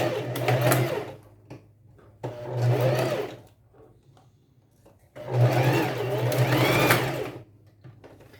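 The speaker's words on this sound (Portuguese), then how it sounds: "vou fazer uma costura reta aqui, somente nessa área, para fixar as alças antes de rebater" Sewing machine stitching a short straight seam to hold straps in place on a bodysuit, running in two close, steady bursts with a pause between them and a faint clack during the quiet stretch.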